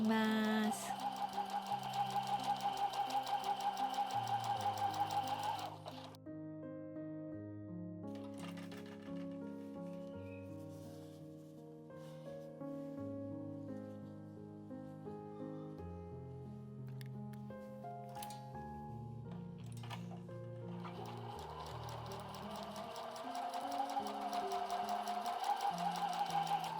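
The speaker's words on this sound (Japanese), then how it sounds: "そしたらミシンで何センチの縫い代でもいいから" A sewing machine stitches fabric pieces for a 20 x 39 x 19 cm patchwork bag, whirring steadily and almost without pause under background music.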